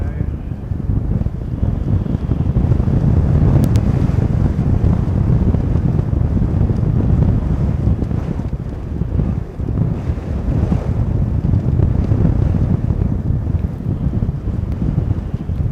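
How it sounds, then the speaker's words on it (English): Strong gusty wind buffets the microphone at an airport beside a runway, a loud continuous roaring rush that swells and eases throughout, with a voice faintly under it. "She's pretty breezy today, mate."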